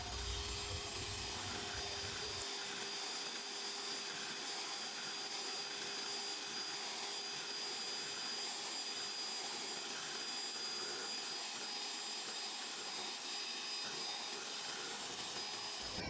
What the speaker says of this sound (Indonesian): Ini kita mixer dengan kecepatan yang paling tinggi.